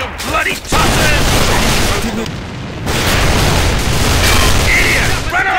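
Dense, continuous bursts of toy-gun gunfire from a clan match in Alliance of Valiant Arms, loud and sustained with booming impacts and brief lulls, a voice speaking over the battle noise.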